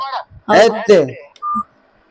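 Two short electronic phone-call-ended tones follow a burst of excited talking, then the line goes silent.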